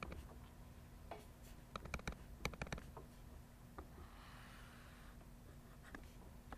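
A pen drawing vectors by hand on paper, a series of faint, quick scratchy strokes in bursts with short pauses, close and quiet over a low steady hum.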